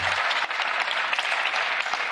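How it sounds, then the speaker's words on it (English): An audience in the European Parliament chamber applauding, a dense, even burst of clapping heard alone for a couple of seconds. "Thank you for your applause."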